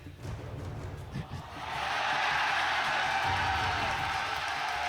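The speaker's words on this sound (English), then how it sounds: "They're chanting Do It." A large esports arena crowd at an NA LCS League of Legends match, Cloud 9 versus Team SoloMid, swells into a loud, sustained roaring chant that builds and holds, with a commentator's voice over it.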